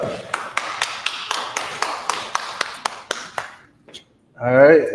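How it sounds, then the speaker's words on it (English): Small gathering at a religious class clapping in a slow, even rhythm, about a dozen sharp claps close by, then a pause before a voice starts speaking. "All right, clap it up."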